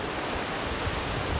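Steady broadband roar of Watson Falls, a waterfall in Oregon, heard from near its top in cool, misty weather; a continuous even rush with no talk.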